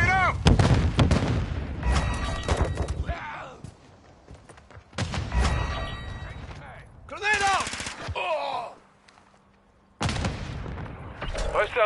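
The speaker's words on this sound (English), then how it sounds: "Stun grenade out!" Call of Duty match with a stun grenade going off amid bursts of gunfire, loud and repeated in several heavy clusters separated by brief lulls, with shouted in-game voice callouts over the action.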